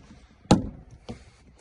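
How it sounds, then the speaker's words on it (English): Plastic door trim clip on a third-generation Honda Odyssey driver's side door popping loose as the panel is pried off: one sharp, close snap followed by a softer second click. "And you heard the clip pop."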